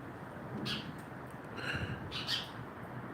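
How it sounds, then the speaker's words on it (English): A small pet bird gives a few faint, thin chirps and squawks in a quiet room, spaced out over a few seconds with soft background hiss. "Little bird. Squawking."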